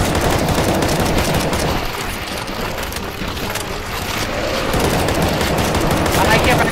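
Rapid, dense gunfire from many players in the CS:GO Zombie Escape video game, a loud continuous fusillade with a voice talking over it.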